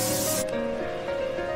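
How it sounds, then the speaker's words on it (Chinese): A beauty device's polymer spray pen emits a steady, continuous hiss of mist, loud and close, running alone without talk for the whole moment. "将旋钮调至高分子喷雾笔。"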